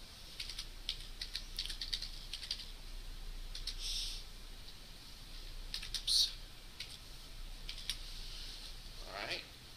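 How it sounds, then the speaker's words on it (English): Quiet typing on a computer keyboard, with scattered soft key clicks in short irregular runs and a few louder taps, over faint room hum. "So now I type in something."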